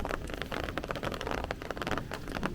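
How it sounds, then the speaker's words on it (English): Rain falls on a Brooklyn street in Bay Ridge during a thunderstorm, a steady, close hiss of drops spattering on pavement and surfaces with irregular louder splashes throughout. "it's raining again, guys"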